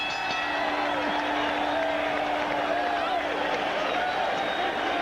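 Boxing arena crowd roaring and cheering wildly after a thrilling first round of a Mark Johnson vs Leon Salazar fight, a dense, continuous wall of crowd noise with whoops throughout, ringside commentary faintly underneath.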